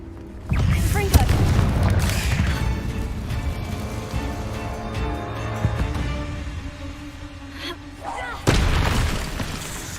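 A Confringo blasting spell going off in the video game Hogwarts Legacy: a heavy, booming explosion with a rumbling tail, followed by a second loud burst near the end, with a voice speaking over it.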